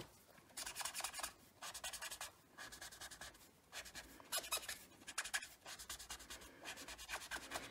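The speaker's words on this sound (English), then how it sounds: "Now I'm going to bring in the So Saffron marker and just color the inside" Marker coloring on card stock for a pocket-fold card: soft, papery scratching strokes repeated in short bursts with brief pauses, close and quiet, no voices.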